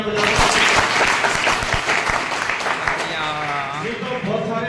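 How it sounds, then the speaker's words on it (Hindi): Loud audience applause at a B.Ed. college event in Bhadra, Rajasthan: dense, close clapping from a large group of students, with voices and a shout mixed in toward the end as it continues steadily. "जोरदार तालियां बजाओ"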